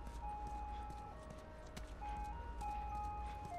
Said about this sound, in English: Why is the ice cream man always coming around this time, man?